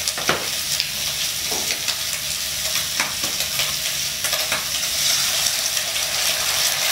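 Egg frying in hot oil in a wok with pork for pad see ew: a steady, fairly loud sizzle and crackle runs throughout, with occasional sharper spatters and scraping stirs on top.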